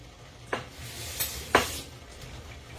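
Thai coconut curry shrimp simmers in a pan with a soft, low bubbling and sizzling bed of sound, broken by a few brief clinks of a utensil against the pan, close by and without speech.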